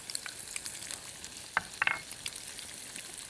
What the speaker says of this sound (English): let's go ahead and put the shrimp into the pan already, and they are going to cook up really quickly